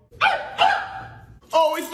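A dog gives three short barks or yips, close and loud, with pauses between them.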